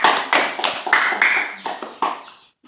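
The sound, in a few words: class clapping for Mbak Salsa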